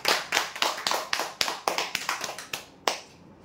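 Sparse applause for a prize winner at a customer lucky-draw event: about a dozen separate sharp hand claps in an uneven rhythm, close and crisp, then one last clap after a short gap.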